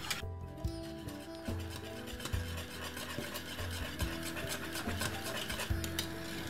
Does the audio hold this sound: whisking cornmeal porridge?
yes